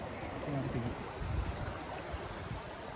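A stream swollen by flooding runs behind waterlogged paddy fields in Wayanad, Kerala, producing a steady, fairly faint rushing wash with a brief low murmur early on.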